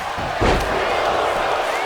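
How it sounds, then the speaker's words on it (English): A clothesline lands in a wrestling show, heard as a sharp thud under the steady roar of a cheering crowd. "And we got a clothesline."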